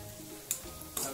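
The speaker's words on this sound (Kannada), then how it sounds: "ಜಿಂಜರ್ ಗಾರ್ಲಿಕ್ ಪೇಸ್ಟ್ ಹಾಕಿ ಮತ್ತೊಮ್ಮೆ ಫ್ರೈ ಮಾಡಿ" Onion, ginger garlic paste and capsicum fry in a pan for jackfruit Manchurian, with a soft continuous sizzle and two quick bright scrapes of stirring.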